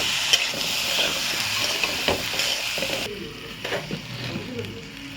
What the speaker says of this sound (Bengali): এবার আমি নেড়ে নিচ্ছি সব। চালটা একটু ভাজা হবে আমার।